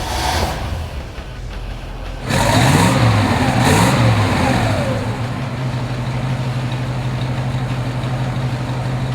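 A 1960 Chevrolet Corvette Roadster cranks and fires, revving briefly a couple of times before settling into a steady, rumbling idle, close and fairly loud.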